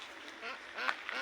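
Several ducks quack close by in a short cluster of nasal calls, growing a little louder toward the end, with faint background noise.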